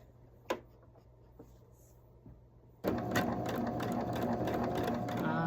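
A few faint clicks and taps, then a sewing machine starts up and stitches with a fast, steady rattling whir close by.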